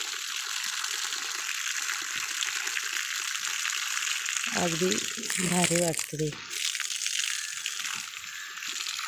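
Water rushing steadily along an irrigation channel toward banana plants in a farm field, a continuous broad hiss, with someone speaking briefly midway.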